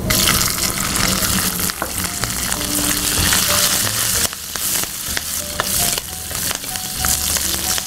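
Carom seeds frying in hot oil with green chillies going in, a loud, constant close sizzle with crackling pops and a few stirring knocks, no voices.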